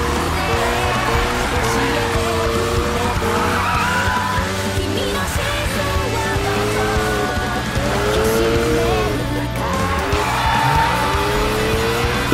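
Tires skid and squeal as a car slides through corners in the racing game Need for Speed (2015), with long, wavering screeches over a steady, loud engine roar and music throughout.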